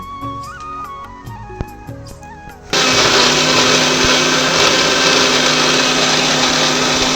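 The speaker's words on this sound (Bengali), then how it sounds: "এবার আমি থোড়গুলো সেদ্ধ করে রেখেছি সেগুলো বেটে নেব" An electric mixer grinder switches on and grinds boiled banana stem into a paste, a loud, steady high whir that takes over after a few seconds of quieter background sound.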